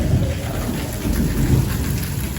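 Heavy thunderstorm with steady loud rain and deep rolling thunder rumbling throughout, strong wind mixed in, no voices.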